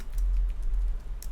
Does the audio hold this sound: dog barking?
no